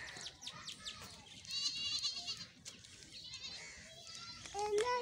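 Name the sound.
buffaloes and their calves in a village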